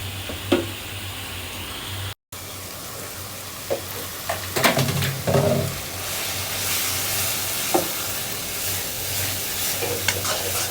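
A spoon stirs chili powder in a hot frying pan, giving repeated scraping strokes over a steady sizzle, close and moderately loud, with a brief dropout early on.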